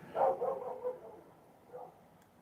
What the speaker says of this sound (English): my dog always causing problems out there